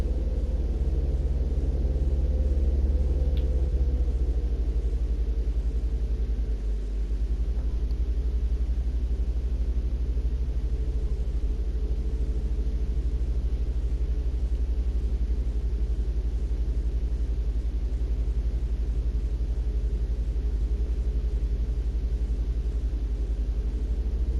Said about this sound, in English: going a little bit fast for the truck to handle